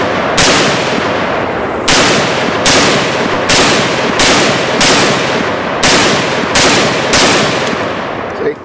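Nine loud, close shots from an FAL M-444 rifle, sharp cracks spaced about a second apart, each trailing a short echoing decay outdoors, with no talking.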